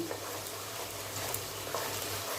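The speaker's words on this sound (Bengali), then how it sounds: "রসুন, আদা, কাঁচা লঙ্কা ভাজা" Garlic, ginger and green chillies frying in a pan, giving a steady, close, moderately quiet sizzle without a break.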